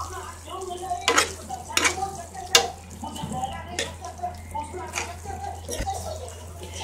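Chicken pieces being mixed in a biryani pot, repeated scraping stir strokes and soft wet sloshing under a low steady hum, with occasional louder clanks.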